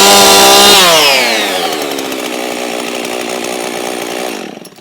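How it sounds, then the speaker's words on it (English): An old chainsaw engine fires up loud and close, revving high before settling into a steady, buzzing idle that runs for several seconds and then cuts off. "Now that is an old chainsaw which works just as well as it did the day I bought it"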